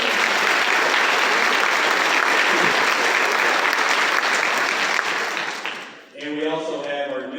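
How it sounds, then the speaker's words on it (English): Sustained applause fills a high school senior awards assembly in an auditorium, a dense, loud crowd clapping for about six seconds before fading out as a voice begins speaking. "Let's give them a round of applause."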